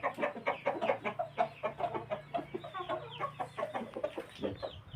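Four-month-old gamecock chickens cluck in a steady, rhythmic stream of short calls close at hand, with a low hum running underneath and no voices.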